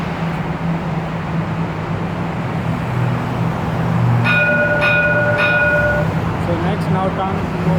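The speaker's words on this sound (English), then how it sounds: "Now tram is moving." Dubai tram pulling away from a marina stop, a steady low rumble with bright chime-like tones ringing out partway through.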